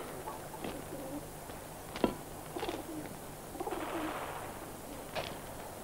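Pigeons coo softly in the background, a few faint rounded calls over a steady hiss of room noise, with a small knock partway through and no talking.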